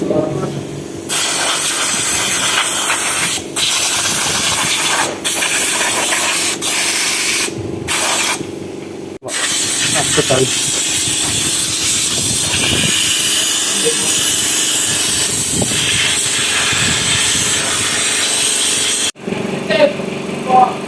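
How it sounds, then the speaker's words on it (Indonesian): Compressed air blasts in long, loud hissing bursts while cleaning the double clutch lining of a Honda Vario 125 injection scooter's CVT, with brief pauses between sprays. "ini untuk proses pembersihan kampas menggunakan kompresor"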